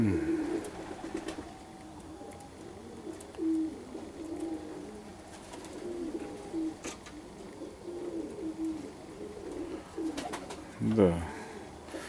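Perm grivun pigeons cooing in a loft, soft repeated coos scattered throughout with occasional wing flutters, while people talk quietly nearby.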